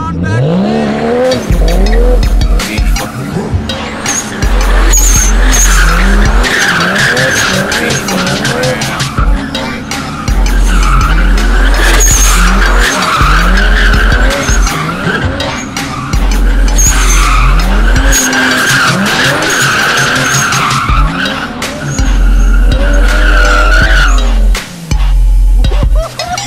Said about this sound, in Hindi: Supra drifting around Batmobile.